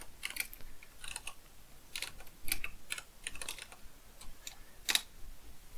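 Keys clatter on a computer keyboard as a terminal command is entered, in quick irregular bursts of close, light clicks with brief pauses and one firmer keystroke near the end.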